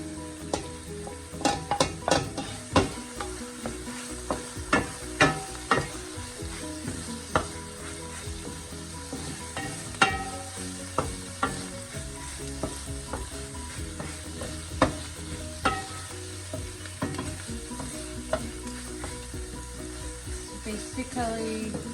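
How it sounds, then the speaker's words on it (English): Garlic fries in about three tablespoons of hot oil for a steamed fish sauce. A steady low sizzle runs throughout, with scattered clatters of stirring and utensil knocks up close and no talking. "There's about 3 tablespoons of oil. Okay. Then I'm adding the garlic."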